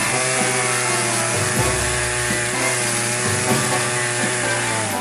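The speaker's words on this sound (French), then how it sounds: "L'habile bûcheron dut terminer le travail à la tronçonneuse." A chainsaw runs loud and continuous, its engine droning steadily with slight shifts in pitch as it works.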